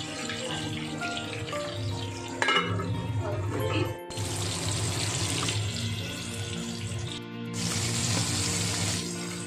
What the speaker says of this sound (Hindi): तेल गरम हो चुका है, तो मैं अभी इसमें रूई फिश फ्राई करूंगी।